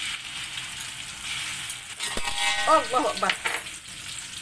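Dried chillies frying in a pan for a bitter gourd, egg and chilli stir-fry, giving a continuous close sizzle while a distant call to prayer rises briefly partway through.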